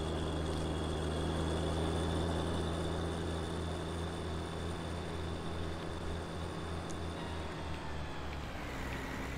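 A tractor engine in a farming video game, droning steadily at a low pitch with a constant rumble throughout, loud and close, with no talk over it.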